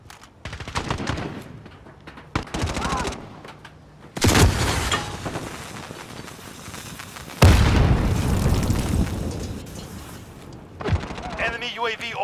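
A planted charge detonates in Call of Duty: Modern Warzone, a loud booming blast amid bursts of gunfire, with voices talking over the battle noise.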